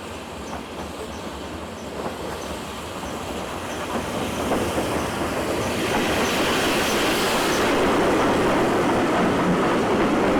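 GWR steam locomotive 6024 King George V rolls along the rails, a dense mechanical rumble with clickety wheel noise that grows steadily louder over the stretch.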